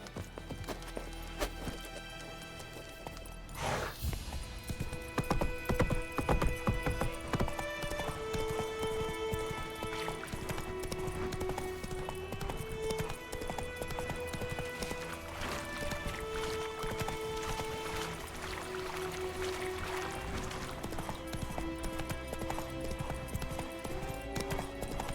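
Roach, a horse in The Witcher 3, gallops with rapid, continuous clip-clop hoofbeats over game music, with a brief whinny early on.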